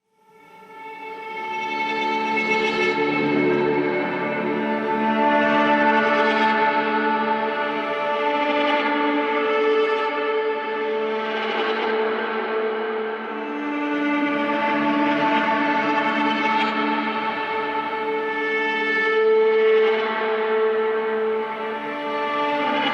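Realitone Nightfall hybrid strings toolkit playing its Beauty patch: a sustained, lush layered string pad with swelling chords and soft echoing tails, heard alone for over twenty seconds.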